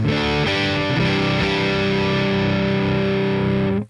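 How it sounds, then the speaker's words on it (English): A vintage Japanese Stratocaster with Seymour Duncan pickups, on the neck pickup with heavy distortion, rings out sustained, dark-toned chords, loud and alone, before cutting off abruptly. "we're going to do it with a higher gain tone this time"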